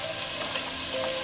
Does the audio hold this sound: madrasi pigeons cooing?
no